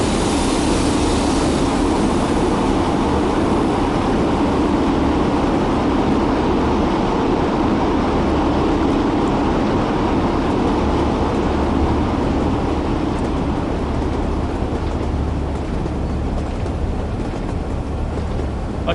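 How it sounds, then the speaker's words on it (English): A passing train rumbles steadily in the Train Sim World game, a dense low drone with a broad rolling wash lasting throughout, loud and continuous without any clear pauses. "Right, we've got another train coming."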